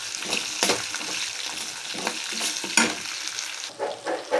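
Small shallots fry in a pan with a dense, continuous close sizzle and bubbling crackle, growing briefly choppier near the end, with no voices.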